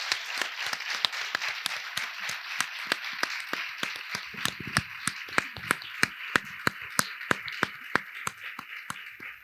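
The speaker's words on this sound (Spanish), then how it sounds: "le vamos a pedir un fuerte aplauso para Sonia" Audience applauding the speakers at a book presentation, a sparse group giving distinct, separate claps that become brisker and louder toward the middle, with no voices heard.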